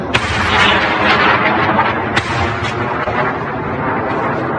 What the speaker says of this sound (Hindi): पहले हम कुछ मनासिर देखते हैं और ये यमन के मिसाइल हैं।